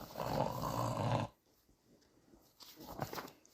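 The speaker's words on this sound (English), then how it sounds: "Snoring like a giant over there." Loud, rough snoring from a person drones for about a second, then fades to quiet breathing, with a softer snore returning near the end, close by and heard alone.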